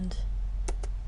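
Two or three quick, faint computer mouse clicks tick close together over a low steady hum, separated by brief pauses.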